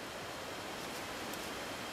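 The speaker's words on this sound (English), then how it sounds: "You can see the river pouring into the blocks." River water gushes and pours into enormous stone blocks in the Lengguru Massif of Papua, making a steady, even rushing wash of broadband noise at moderate distance.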